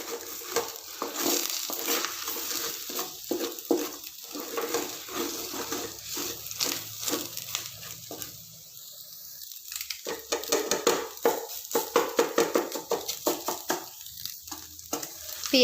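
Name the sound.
stirring food frying in a pan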